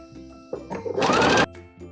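A sewing machine finishes stitching a bralette seam with a short, close burst of rapid stitching between quieter fabric handling, without talk.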